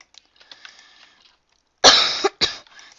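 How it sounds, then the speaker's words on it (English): A person coughs at close range: a loud harsh double cough, the second burst shorter, after a quiet stretch of faint background noise. "This cough is crazy."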